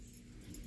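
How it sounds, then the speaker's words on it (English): Keys dropped by the driver of a pickup truck make a short, close metallic jangle and clatter amid steady background noise, with no talking. "Drop my keys, hang on."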